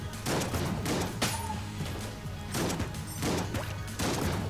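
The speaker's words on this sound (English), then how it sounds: "Why am I using the starter pistol?" Starter pistol gunfire in the video game Enter the Gungeon: a steady volley of rapid shots layered over busy game music and effects, dense and continuous throughout.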